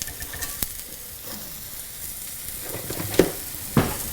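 Greek burgers sizzle in a cast iron pan, a fairly quiet continuous frying hiss punctuated by two or three brief spatula scrapes, with no one talking.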